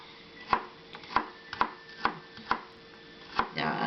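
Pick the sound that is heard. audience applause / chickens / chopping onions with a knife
chopping onions with a knife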